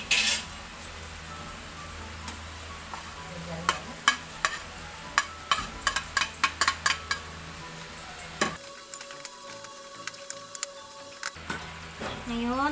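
Long chili peppers go into a pan of Bicol Express, giving a run of sharp clattering knocks and stirring over a low sizzle, then a short quieter stretch before the pan noise resumes.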